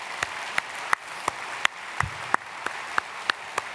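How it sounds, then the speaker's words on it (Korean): A congregation at a special early-morning church revival service claps in thanks to God, with sparse, distinct claps spaced out in a loose rhythm, fairly close and moderately loud, without voices. "우리 하나님께 감사의 박수 한번 보내드릴까요?"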